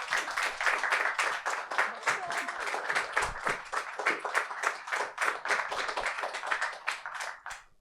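Audience applause welcoming two guests onto a musical theater talk show, sustained rhythmic clapping from a studio crowd lasting several seconds before tapering off at the end.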